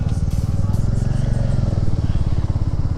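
A motorcycle leaving Shimla labours up a mountain road with a loud, close, steady engine thrum and rapid rhythmic pulsing, strained and unbroken through the whole stretch.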